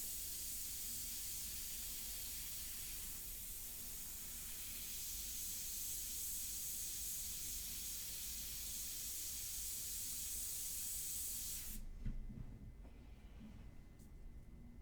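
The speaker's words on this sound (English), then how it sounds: "the Extreme Patriot Aero is an awesome airbrush" An Extreme Patriot Aero airbrush sprays India ink in a continuous soft, airy hiss lasting about twelve seconds, then stops abruptly, leaving quiet background.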